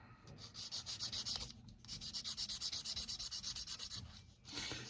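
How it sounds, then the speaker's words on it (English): A sander rubs over small plastic tabs on a Rubicon M102 howitzer model kit in quick, rhythmic strokes, close and fairly quiet, pausing briefly between bursts. "these little tabs, I'm just going to gently run over with the sander and smooth them out"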